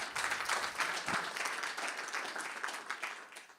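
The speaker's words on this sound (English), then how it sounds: "applause." An audience at a conference awards closing claps throughout, a moderately loud, textured patter of many hands that stays fairly even before tapering slightly near the end, with no speech over it.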